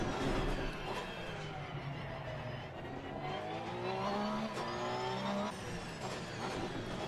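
A GT race car in Assetto Corsa Competizione holds high revs through fast turns, its engine note climbing and shifting through gears at a sustained, fairly quiet level, with no talk.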